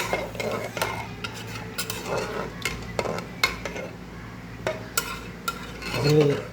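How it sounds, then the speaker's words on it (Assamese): Pot of water being stirred during home cooking at lunchtime, with repeated scraping clinks of a utensil against the pot over a steady low bubbling background, close and moderately loud. "অকণমান লাৰি দিলোঁ এনেকৈ।"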